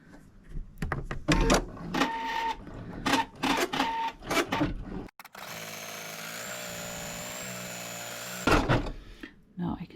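An embroidery machine sews a satin stitch over a free-standing lace panel for an apron, a steady mechanical whir running unbroken for several seconds after bursts of rapid clattering stitching, loud and close.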